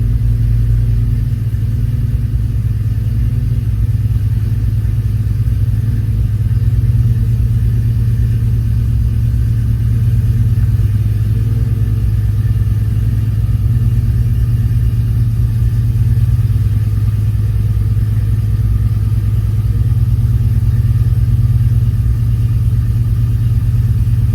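A car engine idles during idle tuning on a standalone EFI system, a loud, close, steady low rumble that holds even throughout with no revving and no voices.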